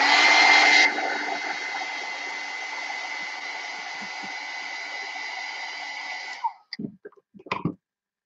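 A handheld heat tool blows a steady, loud whirring roar while heat-setting an ink drawing, then cuts off near the end, followed by a few faint clicks and handling sounds.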